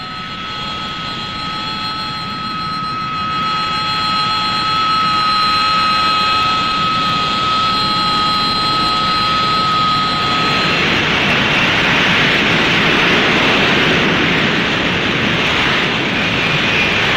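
An AV-8A Harrier jet on the carrier USS Guam roars loudly and steadily, with a high whine that gives way to a broad rushing jet blast as the power rises.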